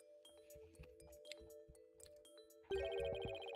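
Bright chiming bell tones from the Ace Attorney Spirit of Justice video game ring over steady sustained tones, with scattered soft clicks and plinks before a louder, denser burst of ringing near the end.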